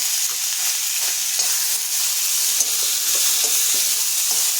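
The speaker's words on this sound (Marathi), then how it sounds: "हे कच्चे टमाटे मी कापून घेतलेले आहे ते आपण आता यात परतून घ्यायचे" Chopped raw green tomatoes sauté in a little oil, a loud, steady close-up sizzle with light scraping stirs throughout and no voices.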